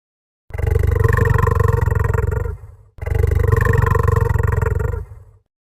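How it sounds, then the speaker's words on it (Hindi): A lion gives two long, powerful roars close by, each a sustained rumbling growl lasting about two seconds, with a short pause between them and nothing else audible. "अचानक पास की झाड़ियों से जोरदार दहाड़ सुनाई दी।"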